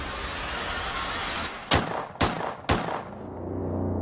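Three sharp gunshots fired one after another in quick, evenly spaced succession as a crime reenactment sound effect, loud and close over a steady background hiss.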